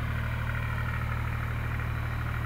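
A Ventrac compact tractor's engine idles steadily nearby at night, a continuous low hum with a faint mechanical buzz and no talk over it.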